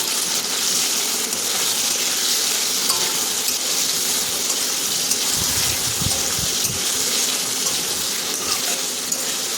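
Food seasoned with salt and turmeric sizzles steadily in a pan as it is stirred, a constant close frying hiss with a few low scraping knocks of the spoon midway through.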